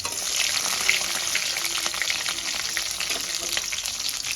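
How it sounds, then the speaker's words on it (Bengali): Slit green chilies and nigella seeds frying in oil left over from frying lentil dumplings, a dense close crackling sizzle that holds steady throughout with faint stirring underneath. "ফোড়নটা আমি একটু ভেজে নেব"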